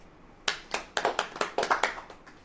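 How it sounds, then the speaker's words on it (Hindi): About ten sharp claps ring out in an irregular rhythm, close and fairly loud, from an audience at a sermon gathering. "ताली बजाओ।"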